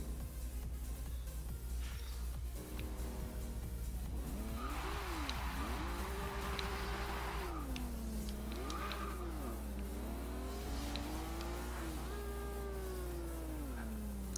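A Nissan Skyline GT-R in the Forza Horizon 2 racing game revs its engine at a launch from a standstill, the pitch climbing and dipping in repeated surges over a steady low drone, fairly close and with no talking.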